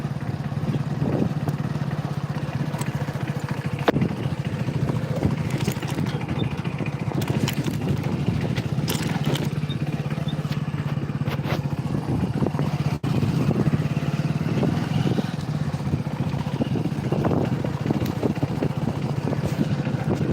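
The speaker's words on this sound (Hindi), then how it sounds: "अब देखिए आप लोग, हमारी बाइक चल रही है" A motorcycle being ridden along, its engine a steady low hum beneath continual wind buffeting on the microphone and scattered knocks, loud and unbroken throughout.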